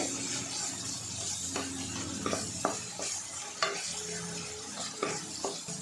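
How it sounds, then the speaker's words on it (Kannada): Tamarind juice simmering over a low flame while garlic thokku is cooked, giving a steady close sizzle and bubbling with repeated sharp scrapes and clicks of a spoon stirring the pan, no talking. "ಲೋ ಫ್ಲೇಮಲ್ಲಿ ಇಟ್ಕೊಂಡೇ ಕುದಿಸ್ಕೊಳ್ಬೇಕು"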